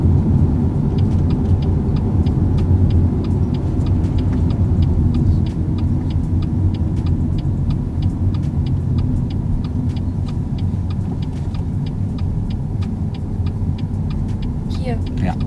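A car pulls away in first gear during a driving lesson, its engine and road noise forming a steady low rumble from inside the cabin, with a regular ticking indicator clicking throughout.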